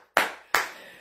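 Two sharp hand claps about a third of a second apart, close and fairly loud, each trailing off briefly, with no talking over them.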